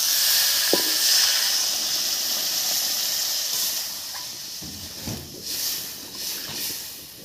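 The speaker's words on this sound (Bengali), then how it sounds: "এবারে জল দেব।" Water hits a hot pan of frying papaya and potato curry with spices, setting off a steady, fairly loud steam hiss and sizzle that rises and falls, with a few clinks. No voices are heard.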